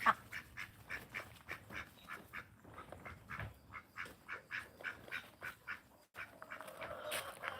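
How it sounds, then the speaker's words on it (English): Farmyard ducks quack in a rapid, rhythmic series of nasal calls, fairly close, with a few honk-like notes and a brief pause before the calling resumes. "come on, ducks"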